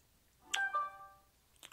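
A phone ringtone plays once, a short bright melodic chime of a few sustained tones, fairly quiet and close, with a small click after.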